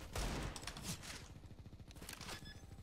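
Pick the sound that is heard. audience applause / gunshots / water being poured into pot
gunshots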